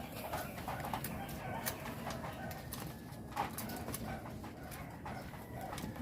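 An injured racing pigeon gives soft, low cooing calls, faint and close, over quiet background clatter.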